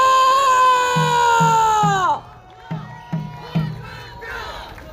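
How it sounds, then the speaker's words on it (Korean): At an outdoor campaign rally for a People Power Party candidate on Hongseong market day, a crowd lets out a long, loud shout that sinks in pitch, followed by a series of rhythmic, punchy beats. "여러분 큰 박수와 함께 함성을 질러주십시오"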